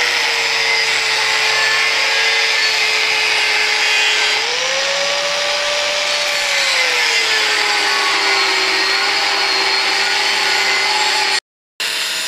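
A power tool making a 65 degree cut on a homemade double rocket stove, a loud, steady whine whose pitch sags midway then settles, cutting off briefly near the end.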